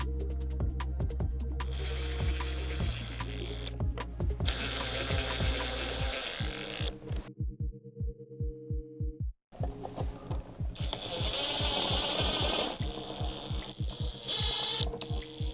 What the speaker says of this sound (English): I'll use the included screws to fit it